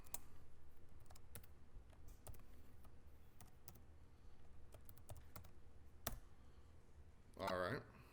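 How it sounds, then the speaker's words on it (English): A telnet command is typed on a computer keyboard: an irregular run of close, crisp key clicks at a steady working pace, ending with a brief louder burst. "it prompts us to run it by typing in telnet and the IP address of"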